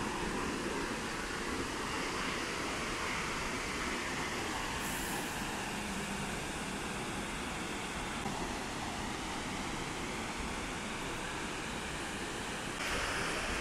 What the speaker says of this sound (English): Oh my gosh, this is Waterfalls.